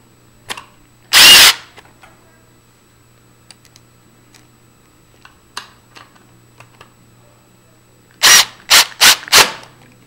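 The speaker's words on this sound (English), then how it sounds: "Now we're going to go ahead and install the two screws that hold this latch in place." A power drill drives screws into a door latch: one short whir near the start, then four rapid bursts close together near the end, loud and close, with light handling clicks between.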